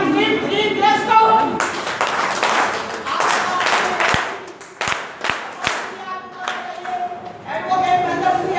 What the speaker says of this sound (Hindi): तालियों से स्वागत करेंगे आप।